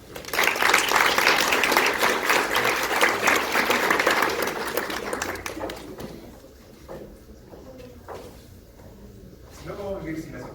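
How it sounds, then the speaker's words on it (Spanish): University law faculty audience breaks into strong applause, dense clapping for about five seconds that fades into scattered claps and a voice beginning to speak. "Un fuerte aplauso."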